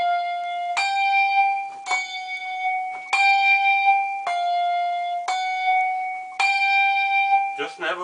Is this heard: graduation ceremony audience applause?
no